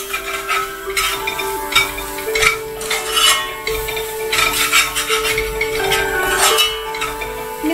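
Lamb kidney fry with coriander powder being stirred in a pan, giving a steady scraping and rubbing of utensil on metal with occasional light clinks, continuous and close throughout.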